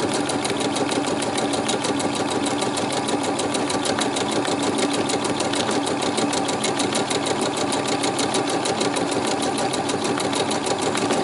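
A sewing machine runs steadily and continuously throughout, a fast even mechanical whirr close by with a rapid stitching rhythm.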